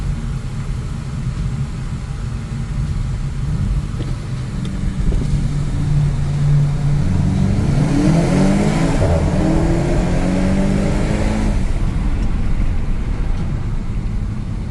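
A 2022 VW Golf 8 GTI engine pulls hard under acceleration, a steady mid-range drone that climbs in pitch through the gear from inside the cabin, loud and continuous with no voices.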